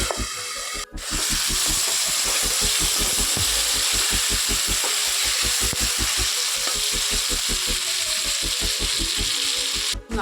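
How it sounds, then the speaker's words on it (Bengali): Potatoes with turmeric and salt fry under a lid in a covered pan, a steady muffled sizzle over a rhythmic low throbbing hum that runs throughout. "এবার ঢেকে আলুটাকে ভালো করে ভাজছি"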